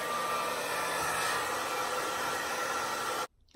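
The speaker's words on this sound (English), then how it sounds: "But I am going to apply some low heat from my blow dryer." A blow dryer running on low heat, a steady close airy whoosh with a faint tonal hum, cutting off abruptly near the end.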